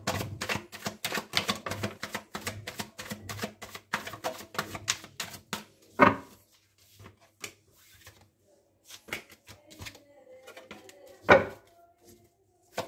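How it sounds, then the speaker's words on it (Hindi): Tarot cards being shuffled by hand in a dense run of rapid riffling clicks and taps, followed by a few sparser handling sounds and two sharp louder snaps, close by with no talking. "पहले हम कार्ड्स को अच्छे से शफल करेंगे"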